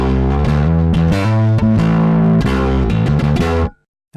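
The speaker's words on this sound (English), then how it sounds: "you'll hear just the distortion channel" An EBS Fafner II bass amp plays on its distortion channel, with loud, gritty, overdriven bass notes in a choppy riff of short and sustained hits. It stops abruptly near the end, and no one speaks.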